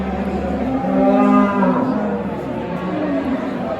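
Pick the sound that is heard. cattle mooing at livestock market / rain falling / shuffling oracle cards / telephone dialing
cattle mooing at livestock market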